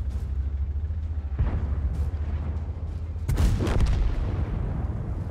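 Tank cannon fire in the World of Tanks game comes as several deep, booming blasts over a low engine rumble, with a heavy shot near the middle and a louder double blast toward the end.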